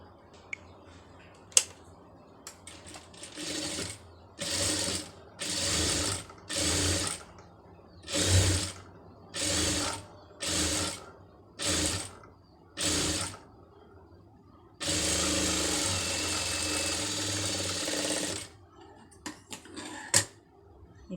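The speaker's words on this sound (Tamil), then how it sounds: "இப்போ இந்த பக்கத்தில் இதை மாத்திரம் கரெக்டாக தைங்க." A sewing machine stitches piping onto a sleeve in about nine short, evenly spaced whirring bursts, then runs in one longer sustained stretch, close and moderately loud with no talking.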